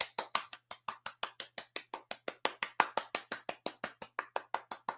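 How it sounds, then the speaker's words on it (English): A single pair of hands claps for a support group volunteer, a long run of evenly spaced, close, crisp claps at a steady quick rhythm, alone with no voices. "Can we get a round of applause in chat,"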